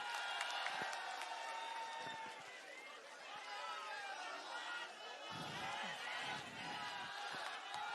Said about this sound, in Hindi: जोरदार तालियां हो जाए संजय सिंह जी के लिए।